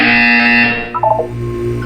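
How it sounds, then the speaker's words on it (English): A steady electronic buzzer from the video game Portal 2 sounds loudly and alone, a sustained harmonic tone that shifts midway into a few short wavering blips before settling again. "You will hear a buzzer."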